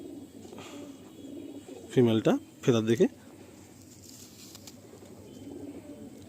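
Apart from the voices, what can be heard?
Fulsira pigeons cooing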